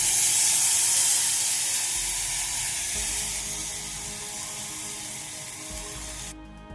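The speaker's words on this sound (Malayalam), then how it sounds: "ഇനി നമുക്ക് ഇതിലേക്ക് പുളിവെള്ളം ഒഴിച്ചു കൊടുക്കാം" Tamarind water, soaked in hot water, poured into a hot pan of ginger curry, giving a loud, steady steamy sizzle and hiss that slowly eases over several seconds.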